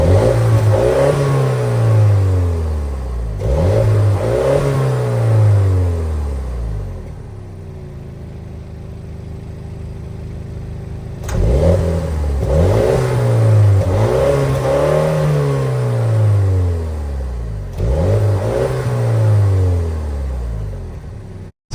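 A 2025 Mini Cooper JCW with a single-outlet exhaust revs repeatedly: loud, close rising and falling bursts in two groups separated by a quieter idle, with no talking.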